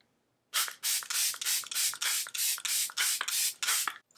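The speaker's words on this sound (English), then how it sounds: "I set my face with this, the Charlotte Airbrush Flawless Setting Spray" A Charlotte Tilbury Airbrush Flawless Setting Spray bottle is pumped about a dozen times in quick, even succession, each spritz a short, close, crisp hiss of mist.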